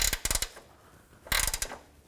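A ratchet bottoming out transmission mount bolts on a 2007-2017 Jeep Compass gives two close bursts of rapid clicking, a pause between them, with no talk.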